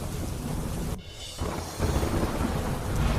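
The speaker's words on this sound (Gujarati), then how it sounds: "તેજ પવન સાથે હળવાથી મધ્યમ ઝાપટા પડ્યા" Light to moderate rain showers with strong wind, a steady dense roar of rain and gusts, loud and continuous with a brief dip near the start.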